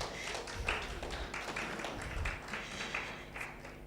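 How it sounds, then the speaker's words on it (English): Audience applause at a stakeholders' forum, a thin, uneven patter of claps from a modest crowd, steady for a few seconds with a low hum beneath and no one speaking. "Another round of applause for her,"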